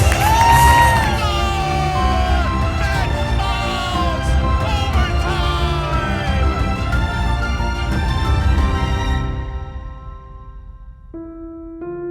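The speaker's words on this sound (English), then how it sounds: "Courtesy applause." A crowd at a celebration-of-life gathering bursts into loud applause with cheers, whoops and shouts that carry for several seconds before fading out, leaving a few soft sustained tones.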